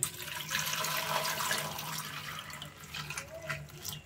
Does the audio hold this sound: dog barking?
no